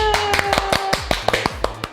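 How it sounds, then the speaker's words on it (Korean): Quick, crisp hand claps, roughly ten in two seconds, with a faint steady tone humming underneath. "자, 박수!"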